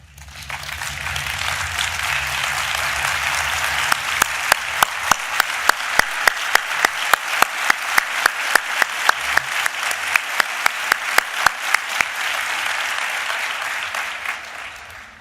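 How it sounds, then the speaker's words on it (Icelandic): Long, loud round of audience applause at a party meeting where candidates speak, dense steady clapping that swells in, keeps going for about a dozen seconds with sharp individual claps standing out, then fades. "gott klapp."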